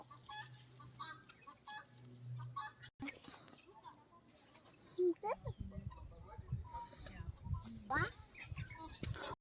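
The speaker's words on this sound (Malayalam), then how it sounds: "കോഴികൾ, ഗിനിക്കോഴികൾ." Chickens and guinea fowl call at a strawberry farm, with clucks and honking cries at moderate distance mixed with people talking nearby.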